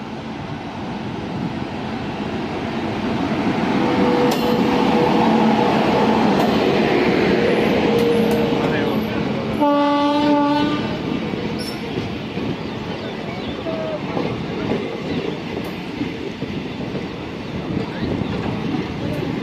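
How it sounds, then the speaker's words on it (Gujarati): The Rajkot-Veraval local passenger train rolls in at the station with a loud, continuous rumble, then a short burst of horn notes midway and wheels squealing faintly, while a person talks in the background. "Rajkot Veraval local passenger train આવી ગઈ છે"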